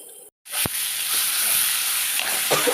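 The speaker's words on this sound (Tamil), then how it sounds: "இப்போ இது நல்லா வந்து நமக்கு ஃப்ரை ஆகணும்" Dried fish curry masala fries in a pan with a steady, loud sizzling hiss that continues after a short break near the start, with no talking.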